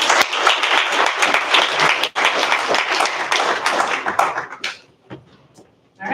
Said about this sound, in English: let's give another round of applause for our presenters and our panelists